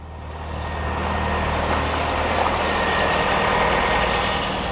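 A Rover 214 car engine idles at close range with a steady, fairly quiet hum and a slight vibration that rises a little after the start, and no one talks over it.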